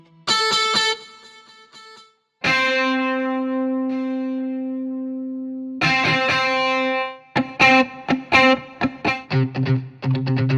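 Processed guitar sample from the Heavyocity Scoring Guitars 2 library, loud sustained distorted chords with long reverb tails whose pitch wavers, followed by a run of choppy staccato notes.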